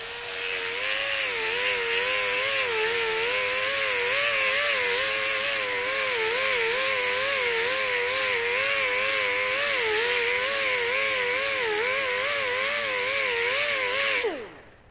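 A sanding tool with a 60 grit disc blends a weld seam: a loud, continuous motor whine wavers up and down in pitch as the disc is pressed and worked along the metal for about fourteen seconds, then stops abruptly.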